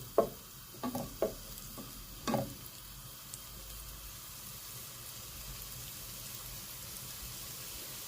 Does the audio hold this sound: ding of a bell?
no